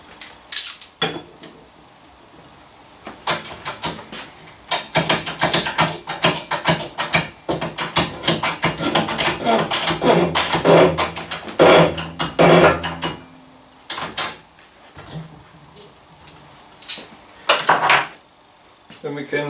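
Metallic clanks, ratcheting and scraping from work on a Yamaha PW electric bike motor as the crankshaft bearing, grooved on its outer face, is pressed onto the shaft; bursts of close, loud mechanical knocking come in irregular clusters with brief pauses.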